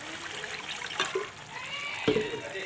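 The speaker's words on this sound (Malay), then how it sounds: "Saya nak tambah air lagi sikit." Water poured from a container into a pot of fish head curry gives a soft, continuous trickling splash, with two brief sharper pours about a second apart, fairly close and quiet.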